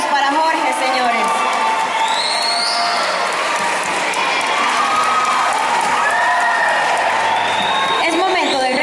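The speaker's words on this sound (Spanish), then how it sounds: "Que se escuchen los aplausos para Jorge" Pageant audience applauding and cheering with whoops and shouts for a Barinas contestant in the Mister category during the evening-wear round of Mister Planet Model Venezuela 2016, a sustained loud crowd roar lasting throughout.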